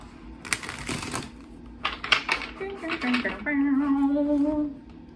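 Tarot cards are shuffled in quick riffling bursts of papery clicks, followed by a short sustained voice.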